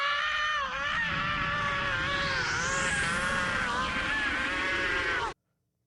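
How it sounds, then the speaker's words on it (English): A person screams loudly and continuously in raw, strained cries of frustration, a sustained shrill wail with a rising pitch sweep, filling the whole clip alone before cutting off abruptly. "I just feel like screaming my head off."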